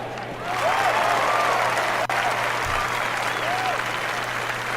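A crowd on a golf course in the PGA International Challenge video game applauds steadily and loudly for several seconds, a dense, even wash of clapping with no voices over it.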